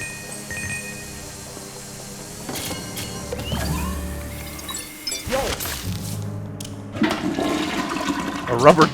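A toilet flush from the Luigi's Mansion 3 video game, a rushing watery swirl mixed with game music and other effects, with a spoken voice partway through.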